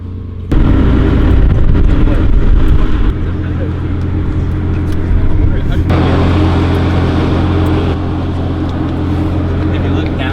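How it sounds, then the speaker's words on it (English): A McLaren P1 supercar pulls up with a loud, continuous low engine roar and rumble, close by and steady throughout, with people talking over it. "then you got Eddie X pulling up in the P1"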